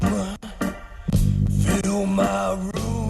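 A dense, carnival-like organ song plays loudly with rhythmic accents and a gritty, swirling tone, no talking over it.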